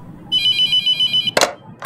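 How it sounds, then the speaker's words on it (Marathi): A telephone rings in the horror video game The Mortuary Assistant, a bright electronic ringtone pulsing in a steady run of short bursts, followed by a couple of sharp clicks. "फोन आलाय."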